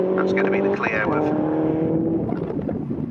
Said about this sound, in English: Cars coming through Renault Clio there as well.